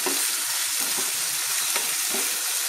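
Red chutney ingredients fry in a pan, a dense, continuous loud sizzle with faint bubbling and spatter underneath, close and steady throughout.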